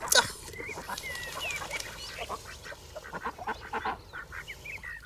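Canada geese honk and squawk repeatedly at close range, a busy flurry of calls mixed with a few quacks.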